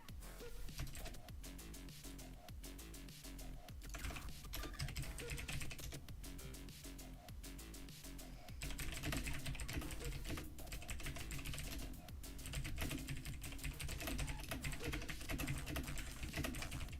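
Typing on a computer keyboard during a live stock market stream, continuous quick clicking keystrokes over a steady low background hum, faint and without talking.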